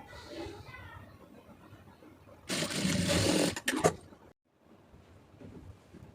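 A sewing machine runs a quick, loud stitching burst of about a second and a half while sewing folded piping onto a neck design. Quieter talk comes before it and low room sounds follow.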